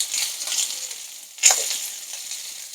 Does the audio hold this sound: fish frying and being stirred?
yes